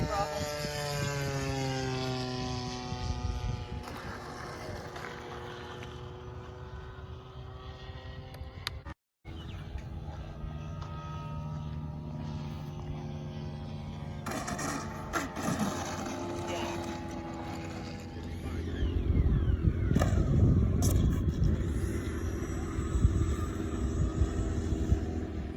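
An RC model airplane coming in to land, its propeller whine sliding steadily downward in pitch, then a louder rougher rumble near the end, with people talking over it at an outdoor flying field.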